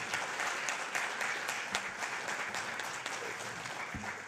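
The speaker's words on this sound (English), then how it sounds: "Please join me in applauding the Honorable Minister for his interventions this morning." An audience applauds a minister after his morning remarks at a roundtable talk in Japan, steady dense clapping filling the room throughout at moderate level.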